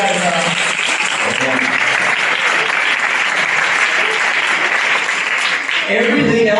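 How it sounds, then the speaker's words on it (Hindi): A church congregation claps loudly at a Christmas convention, with dense, sustained applause filling the room throughout and brief bursts of voices mixed in near the start and end. "आइए इसके लिए हम जोर से ताली बजाएंगे।"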